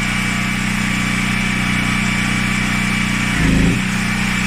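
Small generator idling steadily while powering a dryer, with a constant droning hum and a brief low thump near the end.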